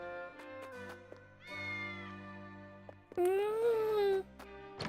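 A cat meows in the video game Triangle Strategy, with a loud, rising-then-falling meow near the end over steady background music and soft tones.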